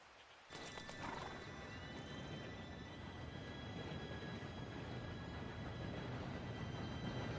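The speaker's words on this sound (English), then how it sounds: "Train should be here any minute now." A train arrives in Red Dead Redemption 2 as a loud, steady rumble of rolling wheels and rushing noise that builds suddenly and then holds, with horses neighing and hooves clopping in the mix.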